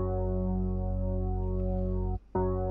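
Layered synthesizer sub bass and top bass run together through a bass amp, a deep sustained harmonic tone that holds steady, cuts out briefly near the end, then returns.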